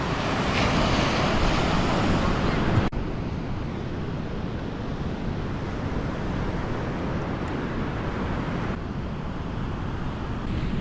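Sea waves wash continuously along a Roman beach, a steady broadband rush of surf mixed with wind buffeting the microphone, fairly loud and with no voices.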